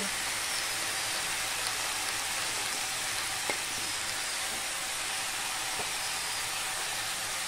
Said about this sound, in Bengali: এবার আমি এই পুঁই শাকগুলো এর মধ্যে দিয়ে দিচ্ছি।